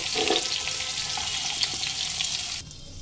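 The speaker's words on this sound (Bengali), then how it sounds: "বাকি চিকেনের পিসগুলো একই রকমভাবে ফ্রাই করে নেব।" Chicken pieces for gondhoraj lemon chicken fry in a kadai over medium-high flame, a steady loud sizzle with occasional spits that drops abruptly near the end.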